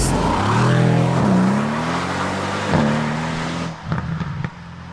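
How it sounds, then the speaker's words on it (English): A Mercedes-AMG 4-litre bi-turbo V8 revs and shifts gears under load, a muffled, rising growl with turbo whoosh, then eases off with a few pops. "these AMGs have 4 litre bi-turbo V8s, and they are basically so much more muted"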